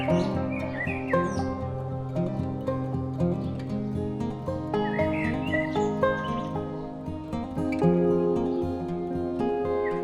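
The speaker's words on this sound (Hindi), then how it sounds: "यहाँ आप पेड़ पौधों के साथ स्वच्छ हवा में पक्षियों की चहचहाहट सुन सकते हैं" Birds chirp and tweet among trees on a planted mountainside, several scattered calls repeating throughout over a dense layer of harmonic tones, with no talking.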